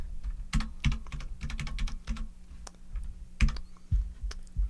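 Quick, uneven bursts of clicky key presses on the keypad of an ETC Eos lighting console, close and clear with short pauses between groups of presses.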